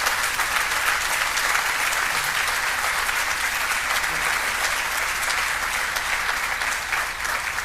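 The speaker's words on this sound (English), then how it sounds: "let's give a huge round of applause to my great friend, Brian Higgins" A large audience at a campaign event on the Buffalo waterfront gives a huge round of applause for Brian Higgins, a dense, steady wash of clapping that holds at full strength throughout.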